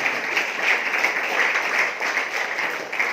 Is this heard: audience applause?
yes